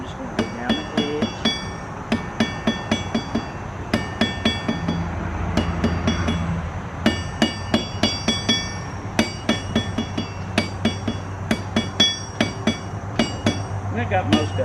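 A blacksmith hand-hammers hot metal at an anvil, working down the edge of the piece with bright, ringing strikes that fall in quick, steady runs, broken by a few short pauses.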